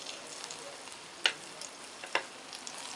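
Egg-coated fish fillets frying in a pan, a soft steady sizzle throughout with two sharp louder crackles as pieces hit the hot oil, close and without talk.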